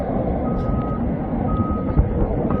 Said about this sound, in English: I want to check out the concrete pump truck again.